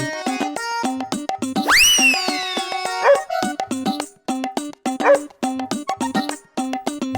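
A police dog barks in rapid repeated bursts and lets out a long rising whimper partway through, loud and close, with no talking.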